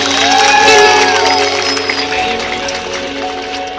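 A crowd at an evening Sundanese cultural event claps, cheers and whoops loudly, with voices and what sounds like music blending into the noisy, enthusiastic din that gradually settles.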